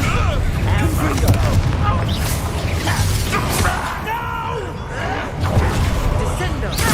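A Confringo fire spell blasting in Hogwarts Legacy during a wizard duel, booming explosive bursts among spell impacts, continuous and loud, with voices speaking over the action.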